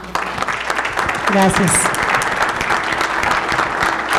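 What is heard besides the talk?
audience applause for Jorge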